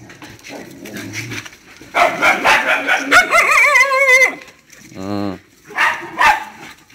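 A pet dog at home gives several loud, deep barks in a quick burst, followed by a whining, yelping cry, with people talking around it.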